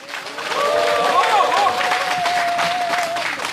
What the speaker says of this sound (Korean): 여러분들의 힘찬 박수로 오늘 수요 집회를 시작하겠습니다